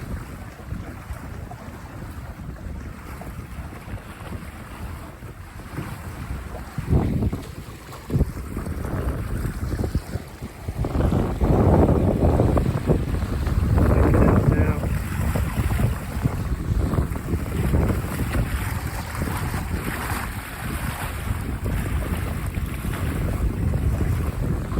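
A Buccaneer 18 sailboat moves on a reach in moderate, gusty wind, with steady wind roar buffeting the microphone over water splashing and rushing against the hull; no one talks.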